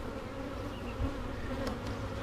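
Honeybees foraging outside the hive, a steady low insect buzz that carries on without a break, with a few brief faint higher whines passing close by.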